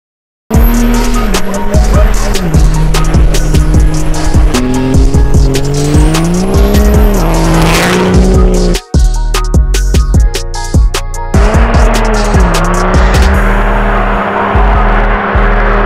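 Heavily built 1100 hp third-generation Cummins diesel truck doing a massive burnout: loud sustained engine roar and revving with screeching tires, a brief drop near the middle, then the engine and tire squeal surge again, no talking.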